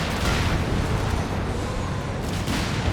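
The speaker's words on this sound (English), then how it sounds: "The Nebelwerfer barrage off here." Nebelwerfer rocket artillery barrage in the strategy game Company of Heroes 3, a loud continuous roar of launches and explosions rumbling without a break, with bursts swelling near the start and end.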